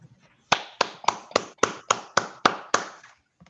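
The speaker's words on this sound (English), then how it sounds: "Colleagues, can we give a round of applause to" An audience at a librarians' day meeting gives a guest speaker a round of claps: about nine crisp, evenly spaced claps, loud and close, with no talking.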